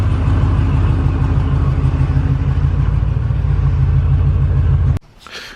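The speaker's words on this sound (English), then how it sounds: "So I'm gonna go ahead and I'm going to pull the truck outside." A Chevrolet Silverado truck's engine rumbles loudly and close as it is driven outside, a steady low drone that cuts off abruptly near the end.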